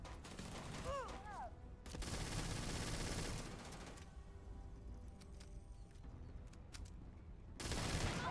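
Gunfire in the video game Starfield comes in several loud automatic bursts separated by quieter stretches, with some short sharp shots and a little game noise in between.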